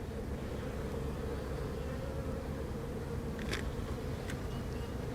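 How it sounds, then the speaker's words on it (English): Honeybees hum steadily around an open hive during a colony checkup, a dense, continuous buzz filling the whole stretch at close range with no voices over it. "So there's a nice population of bees. I see bees across all frames."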